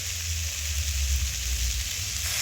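Cabbage cooking with fish head in a hot pan gives a steady, loud frying sizzle with a low rumbling boil underneath, continuous and even throughout, with no voices.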